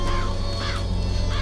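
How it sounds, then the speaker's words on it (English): Crows from the Murder of Crows power in BioShock Infinite caw in quick repeated harsh calls over a dense, loud game soundscape with a steady low hum. "Press to summon murderous crows."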